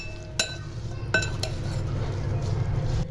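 Spoon stirring green chilies with turmeric and salt in a bowl for green chili pickle, with two sharp clinks against the bowl early on, then a steady low scraping and rustling.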